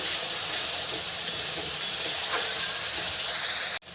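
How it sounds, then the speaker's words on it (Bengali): A paste of ginger, garlic and dried chilli fries loudly with browned onions in a pan for chicken curry, a continuous close sizzle and hiss with faint stirring scrapes, ending in a sudden knock and brief dip. "সেই পেস্টটাই দিয়ে দিলাম এবার বেশ ভালো করে কষিয়ে নেব"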